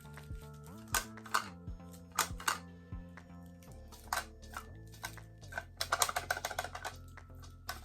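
Loose highlighter pan rattling inside a makeup compact from a subscription beauty bag, quiet irregular clicks and taps in bursts, some quick clusters, over faint background music.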